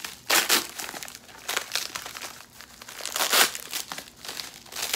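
Plastic packaging crinkles and crackles loudly as it is pulled off a new beard-care wallet, in several close bursts of crumpling with short pauses between.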